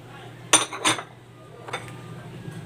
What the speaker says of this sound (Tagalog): paghahalo-haloin ko muna itong gulay, cauliflower, Baguio beans, young corn